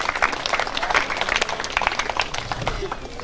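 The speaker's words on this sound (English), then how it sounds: "So a big round of applause to our naming rights partners." Crowd applause for sponsors at a junior football presentation day, steady clapping with a murmur of voices throughout, moderately loud and continuous.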